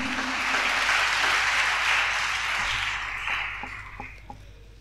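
A church congregation at a combined Sunday service applauds in a dense, sustained roar of clapping that gradually thins and fades, with a few scattered claps trailing off at the end.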